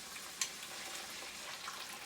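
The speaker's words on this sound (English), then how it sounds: "we are stirring our reserved seasoning mixture in with the ground beef" Ground beef with a seasoning mix frying quietly in a pan while being stirred, a faint steady sizzle with one brief scrape or tap.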